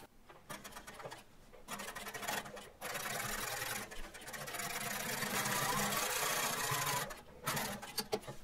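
A sewing machine stitching the edge of a jeans pocket, running in close, loud bursts of rapid mechanical chatter that start and stop several times, with one long continuous run in the middle.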